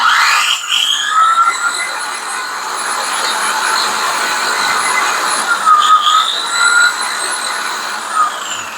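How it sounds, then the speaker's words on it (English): An electric drywall sander with vacuum dust collection runs continuously, giving a loud, high whine with a steady whooshing airflow that shifts slightly in pitch twice as the motor or suction changes; no talking over it. "The vacuum suction is at the head, and so it's going to be blowing out here."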